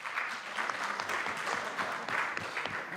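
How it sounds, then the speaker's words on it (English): An audience at a TVET college policy conference claps for an honoured guest, a steady fairly quiet patter of many hands over a few seconds. "Can you clap hands for her?"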